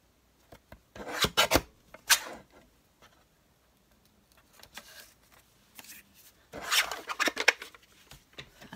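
A paper trimmer slices paper in short rasping strokes, a few quick cuts in the first two seconds, then quieter scraping and a final burst of strokes near the end, close and fairly soft with no talking.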